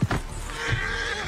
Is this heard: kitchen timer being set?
no